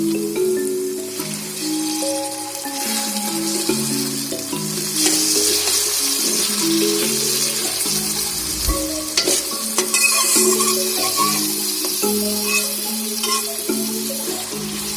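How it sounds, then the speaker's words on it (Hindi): Tomatoes with garlic-ginger paste fry and sizzle over medium heat while being stirred, a steady hiss with occasional scraping, all under prominent background music. "और इसको मीडियम आंच पर फ्राई करें"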